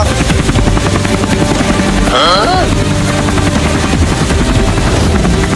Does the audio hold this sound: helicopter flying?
yes